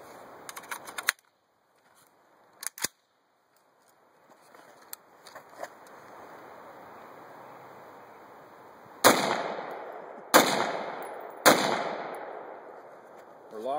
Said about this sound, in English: This is my Colt M4, and we're going to shoot it unsuppressed,